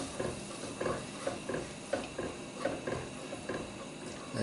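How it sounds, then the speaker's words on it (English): Tomato marinara sauce being stirred in a pot, soft rhythmic scraping sweeps repeating about twice a second over a faint simmer, close and quiet. "we give this a good stir."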